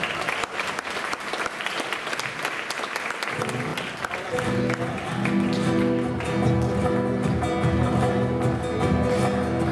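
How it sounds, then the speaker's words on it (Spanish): Concert audience at a Generación Jotalent show in Marcilla applauding loudly and steadily, dense clapping throughout; after a few seconds music begins underneath, with a singer starting a ranchera over the fading applause. "Fuerte aplauso."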